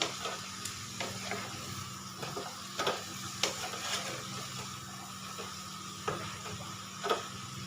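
Malabar spinach stems dropped into a hot pan with prawns sizzle steadily, a soft continuous frying hiss punctuated by several sharp clicks and scrapes of stirring, close by with no talking.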